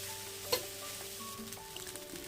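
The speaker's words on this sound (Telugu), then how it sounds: "ఇప్పుడు మనం దీన్ని హై ఫ్లేమ్లో పెట్టుకొని బాగా మిక్స్ చేసుకోవాలి." Egg fried rice being stir-fried in a pan over a high flame, giving a steady soft sizzle with a brief louder clink of a utensil near the start.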